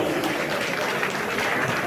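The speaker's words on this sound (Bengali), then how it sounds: "একটু জোরে হাততালি হোক" A crowd at an award ceremony honouring puja committees and officials claps steadily in dense, loud, continuous applause that fills the whole moment without pause.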